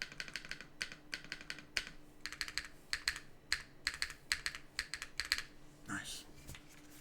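Mechanical keyboard with GMK keycaps typed in quick bursts, crisp clacks and a poppy spacebar landing close and clear, with a brief voice near the end.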